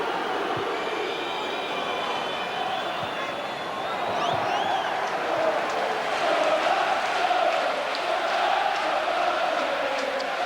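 A packed football stadium crowd of nearly thirty thousand at a 1997 Middlesbrough versus Stockport County match, a continuous dense roar and murmur with occasional whistles, a commentator's voice over it, swelling louder in the second half.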